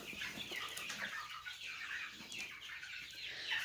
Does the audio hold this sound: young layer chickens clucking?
yes